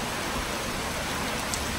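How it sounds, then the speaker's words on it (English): Dense, even patter of rain drumming on a tin roof, a constant close hiss with no pauses over the short stretch. "Not only does rain have an amazing sound on a tin roof,"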